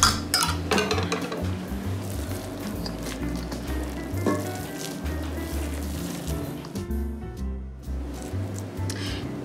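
Cornbread batter goes into a hot pan and sizzles steadily throughout, with low clunks and clinks of the pan close by.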